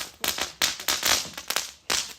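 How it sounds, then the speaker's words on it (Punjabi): Diwali firecrackers go off at an outdoor fair beside Hamilton Lake, a rapid series of five or six sharp, close bangs and crackles at uneven intervals. "ਉਹ ਇੱਕ ਪਟਾਕਾ ਚਲਾ ਕੇ ਕਰ ਦੋ"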